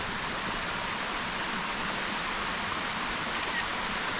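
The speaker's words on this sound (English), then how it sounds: "Not big enough to be a real actual waterfall, but just the stair steppage is super pretty." Small stream cascading down stair-stepped chunks of bedrock along a mountain trail to a lake, a steady, moderately faint rushing hiss with no voices.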